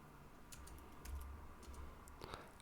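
Soft keyboard typing patters along in short bursts of light, quiet keystrokes against a low background hum.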